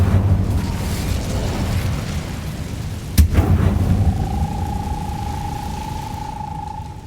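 An Incendio fire spell is cast in Hogwarts Legacy over a low, loud roaring rumble, with a sharp burst in the middle followed by a sustained whooshing tone.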